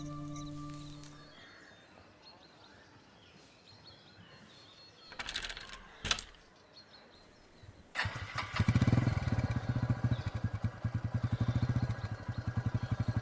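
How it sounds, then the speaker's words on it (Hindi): A motorcycle engine idles and revs close by, a steady rumbling, sputtering drone that starts abruptly partway through and runs loud to the end, after quieter ambient noise and a couple of short bumps. "अरे ये तो भैया की बाइक है ना?"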